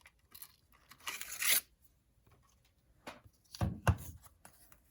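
Paper punch pressing a tag out of snowflake-patterned craft paper: a scattering of light clicks, a sharp crunching snip, then a second firm punch a few seconds later, close and fairly quiet.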